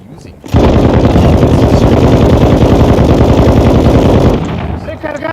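Rapid automatic gunfire from a video game gun, loud and continuous for several seconds, a dense rattling burst that cuts off abruptly, followed by quieter game sounds and faint speech.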